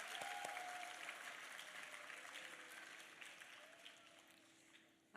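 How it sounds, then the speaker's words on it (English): A crowd applauds dancers at an arangetram, a broad wash of clapping that starts strong and slowly tapers, with a sustained tone and faint voices underneath and a sharp thump at the very end. "Another round of applause for our dancers."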